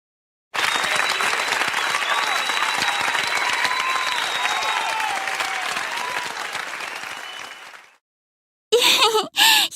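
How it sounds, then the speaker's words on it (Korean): A crowd applauding during a cutscene in the Elsword video game, loud sustained clapping that swells and then fades out, followed after a short silence by brief bursts of game voice. "이 박수 소리는 아까부터 어디서 들리는 거야?"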